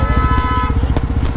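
A Yazdi Roadster motorcycle idles steadily nearby while being parked at a homestay in Uttarkashi, Uttarakhand, its low engine rumble pulsing continuously throughout with a few faint clicks over it.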